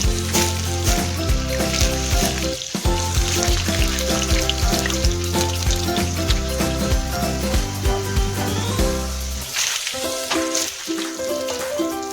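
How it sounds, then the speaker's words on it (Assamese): Potatoes frying in hot oil in a wok for a rohu fish curry, a loud continuous sizzle with music playing over it and a brief drop in the music near the end. "তেলখিনি গৰম হ'লে আলুখিনি ভাজি লওঁ"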